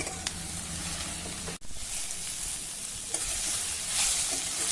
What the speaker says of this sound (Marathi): कोथिंबीर घालूया आणि पुन्हा आता हे छान परतून घेऊ।